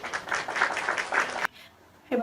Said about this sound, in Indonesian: Ayo kita beri tepuk tangan dulu untuk Gilzah.